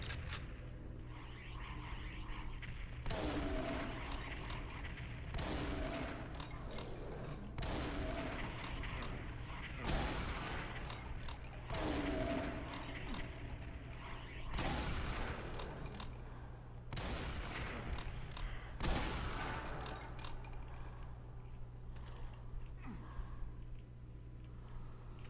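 Enemy gunfire in Brutal Doom 64 rings out as a string of sharp, loud shots spaced a few seconds apart over a steady low droning background, with no talking.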